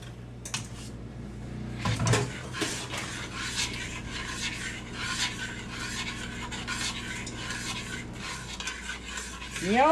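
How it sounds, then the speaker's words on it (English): Sauce for bread pudding, thickened with cornstarch and cooked on low, is stirred steadily in a pot. Continuous soft rasping and scraping strokes sound close and moderately quiet, with occasional light knocks against the pot. "I'm going to keep stirring"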